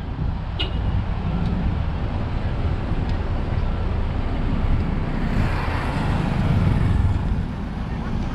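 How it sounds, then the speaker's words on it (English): Slow road traffic near a flyover construction site on Munyonyo Road, a continuous dense rumble of engines and tyres close by, with no clear voices. "So we have slow traffic around here."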